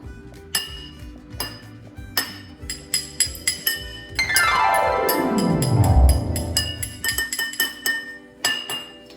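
A spoon taps a drinking glass again and again, bright clinks ringing out, with a sweeping descending tone in the middle of the tapping.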